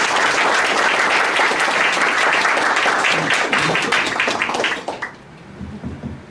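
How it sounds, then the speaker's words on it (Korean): A lecture audience at a court gives loud, sustained applause to welcome a Microsoft technology executive arriving as lecturer. Dense, even clapping fills the room for about five seconds, then stops abruptly and leaves only a faint murmur behind. "큰 박수로 환영 부탁합니다."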